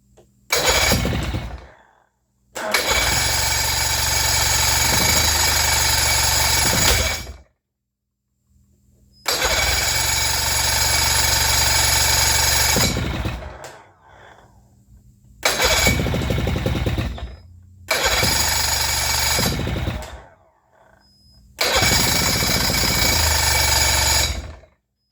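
A pontoon boat's outboard engine, recently troubled by varnish in its carburetor, runs in several loud bursts of several seconds each, separated by short silent gaps as it stops and restarts.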